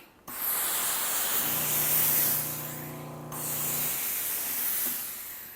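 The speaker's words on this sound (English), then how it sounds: "Now I'm going to steam, okay? So I can go directly on it with the brush." A Miele FashionMaster B3312 steam ironing system steams a sweater through a brush attachment, with close, loud hissing bursts of steam: one long spray, a brief break, then a second sustained hiss.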